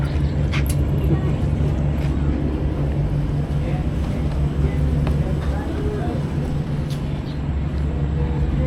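A longtail speed boat taxi roars steadily across Bangkok flood water, its engine droning loud and continuous throughout, with faint background noise alongside.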